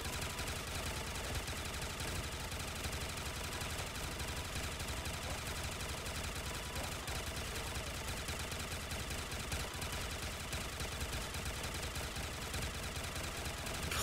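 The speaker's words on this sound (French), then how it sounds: "et vas-y que ça tire, que ça tire, que ça tire." Rapid, dense gunfire from the Minecraft Zombies video game sounds while the player defends a single window against zombies. Shots blur into a constant, loud rattle without break for the whole stretch.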